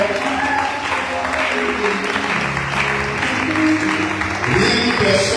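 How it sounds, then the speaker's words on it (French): A church congregation claps and cheers loudly and continuously, dense applause with voices mixed in, swelling again near the end. "Est-ce que tu peux encore acclamer très fort?"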